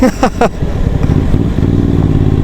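A motorcycle rider on a CAPE 1200 trip rides through traffic, the engine giving a loud, close, steady rumble with a few brief rising revs at the start.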